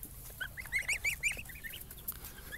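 Domestic geese and ducks, including Danish Legart geese and heavy-line French Muscovy ducks, in a farm yard at feeding time: a flurry of quiet nasal honks and chirpy cackles overlapping in a loose chorus, heard at a distance over faint background noise.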